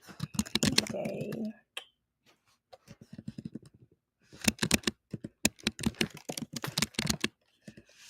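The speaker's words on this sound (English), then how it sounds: "let me turn the typing off, y'all, because I know y'all gonna say I type loud" Loud typing on a computer keyboard during a livestream, bursts of rapid close key clatter with pauses between, and a voice talking briefly near the start.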